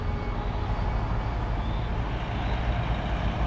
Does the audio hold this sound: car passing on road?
yes